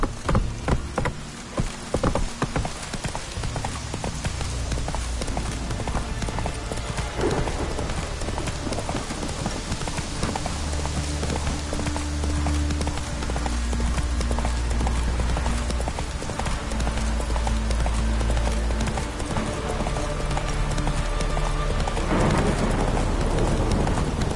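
A horse named Roach gallops in steady clip-clop hoofbeats over a dense hiss like rain, with a low droning rumble underneath, continuous for over twenty seconds.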